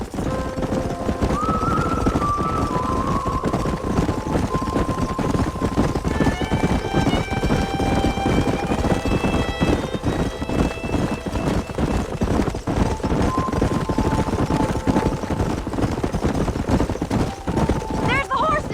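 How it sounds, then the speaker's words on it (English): Horses in the Western video game Red Dead Redemption, steady galloping hoofbeats with occasional whinnies and neighs over continuous outdoor noise, while characters talk throughout. "There's the horses!"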